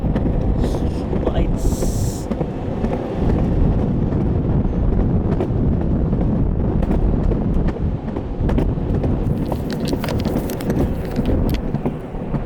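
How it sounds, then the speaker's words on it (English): Strong wind roars continuously across the microphone while riding an electric skateboard on a city street, a loud, steady buffeting rumble with brief gusty bursts throughout. "It's really windy now."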